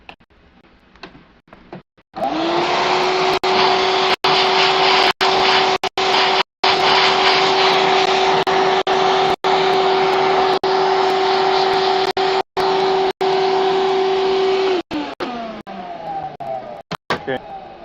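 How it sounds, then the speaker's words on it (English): A vacuum cleaner sucks dust from the crevices of an RTX 3090 Founders Edition graphics card, a steady loud whine with a strong tonal hum that runs for about twelve seconds, cut by brief clicks, then winds down. "Probably vacuum that."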